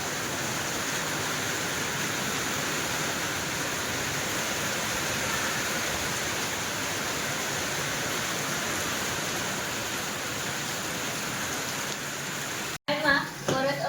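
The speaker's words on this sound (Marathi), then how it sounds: "पाऊस पडतोय" Steady, dense rain falls continuously at an even loudness, a broad hiss that cuts off abruptly near the end before some brief clatter.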